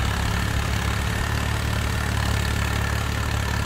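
Tractor engines in the Farming Simulator 22 video game idle and chug at low speed, a dense, steady mechanical drone with no talk.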